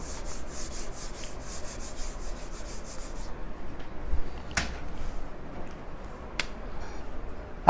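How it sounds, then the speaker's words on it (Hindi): Steady dry rubbing and scraping on a board as writing is erased during a standard costing accounting class, continuous and fairly close, with a couple of sharp taps partway through. "तो अपन इसको रब कर लेते हैं एक बार इधर से।"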